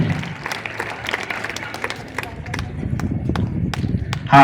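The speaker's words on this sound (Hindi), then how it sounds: "इनके लिए भी हम लोग जोरदार ताली से हम लोग स्वागत करेंगे" Crowd clapping to welcome guests at an outdoor public event with a member of parliament, scattered claps under ongoing talk, rising to a louder burst at the very end.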